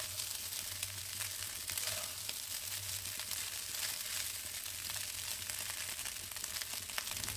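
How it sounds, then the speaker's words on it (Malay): Egg fried rice (nasi goreng) sizzles in a pan over raised heat, a steady dense crackling hiss with faint stirring scrapes and no talking. "Saya kuatkan sedikit apinya supaya nasi gorengnya akan lebih terlerai-lerai dan berderai-derai"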